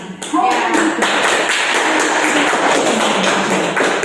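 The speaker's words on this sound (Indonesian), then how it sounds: "Tepuk tangan." Hands clap in a steady, evenly spaced rhythm during a classroom lesson, with children's or a teacher's voice running faintly underneath.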